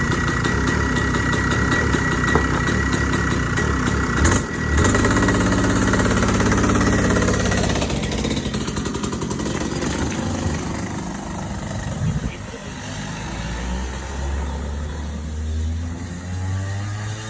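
A very fast go-kart engine runs out on a public road, a close, steady mid-pitched drone that holds throughout with a brief bump early on and a shift in tone near the end.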